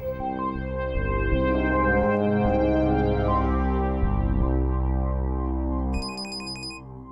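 A phone caller tune plays continuously while a call is placed, a looping melodic tune, loud and close, ending with a brief sequence of higher beeps.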